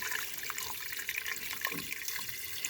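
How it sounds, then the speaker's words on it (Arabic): Hot water poured into a pot of chicken soup, a continuous close rushing pour with faint gurgling, no talk. "وهنا نمرق بالماء سخون"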